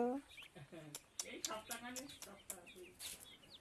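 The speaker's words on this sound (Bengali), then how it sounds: "এদিকে দেখো মুরগি ছোটো ছোটো মুরগি ছানা" Chickens clucking and peeping close by while a person talks over them.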